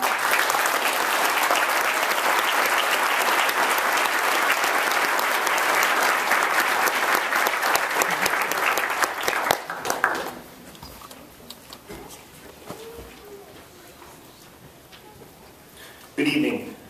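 Loud, sustained audience applause at a Globe University graduation ceremony in Madison, a dense wash of clapping for about ten seconds that then thins to scattered claps and room noise, with a brief renewed burst at the end.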